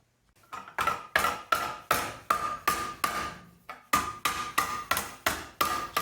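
A rawhide mallet shapes annealed metal over a mushroom stake, striking in a steady rhythm of about a dozen close, ringing metallic blows, with a brief pause midway.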